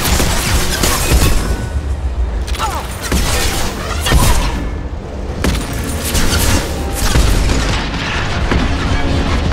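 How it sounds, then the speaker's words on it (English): A high-impact weapon fires in the Mass Effect video game, giving a run of heavy, booming shots with mechanical clanks over a loud, dense background of combat sounds. "Firing a high-impact shot."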